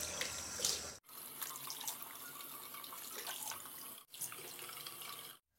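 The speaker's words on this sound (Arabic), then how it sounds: "دابا غادي نغسلو بالماء دافي ومن بعد غندير ليه الماء بارد" Warm water runs from a tap while a face mask is rinsed off, a loud, close, steady splashing stream interrupted by two brief stops.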